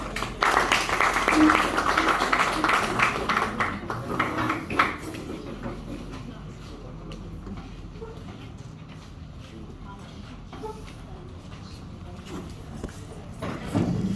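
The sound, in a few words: audience applause at a seminar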